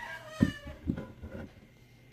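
A house cat meows twice in a short, close pair of calls, followed by a fainter third call, in a quiet indoor room.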